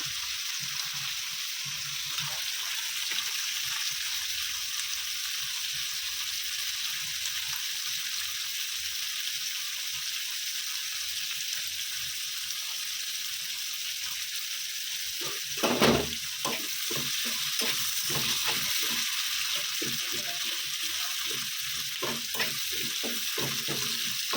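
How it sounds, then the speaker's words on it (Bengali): A steady, gentle sizzle of onions frying until reddish-brown in a pan, with a brief stirring scrape and clatter midway, no voices. "আর পেঁয়াজটা লাল করে ভাজা হোক"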